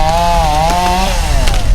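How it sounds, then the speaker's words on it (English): A chainsaw cuts up fallen trees after a storm, with a loud, steady buzzing whine that dips and rises in pitch as it bites, close and continuous throughout. "the chainsaws are out cutting up trees that have fallen over"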